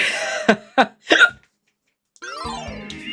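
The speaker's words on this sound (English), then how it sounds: "Yeah, I've definitely got hiccups now." A man's hiccups come as three sharp, close gulping bursts in quick succession, then a pause before a brief burst of video game music starts up.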